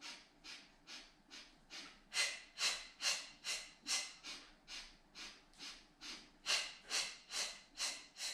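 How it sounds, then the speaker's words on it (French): Steady breathing during a Pilates exercise, about twenty rhythmic breath cycles with airy, whooshing exhales close to the microphone, each rising and fading in a regular pattern with no talk over them. "Inspire, remplissez-vous d'air."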